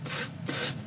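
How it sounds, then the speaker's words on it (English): A sanding block rubs back and forth over the corners of a kneeling Santa craft piece in three steady abrasive strokes, close and alone. "I'm going to take a sanding block."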